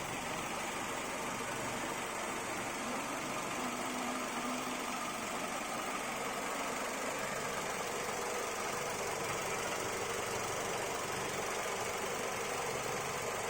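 Daihatsu Sirion car engine idling steadily after about seven years of use, a continuous close mechanical hum with a faint ticking texture running unbroken throughout.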